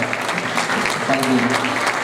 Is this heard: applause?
yes